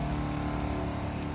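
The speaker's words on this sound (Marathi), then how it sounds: "तो ब्लोअर तुम्ही बघू शकता कसा चालतोय." A blower mounted on an Apollo tractor alongside a 130-litre tank runs steadily, a loud continuous mechanical drone with a low engine hum, heard briefly on its own.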